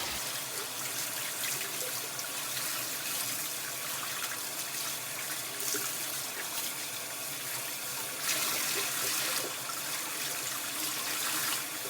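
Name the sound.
tap water rinsing a bleached tie-dye shirt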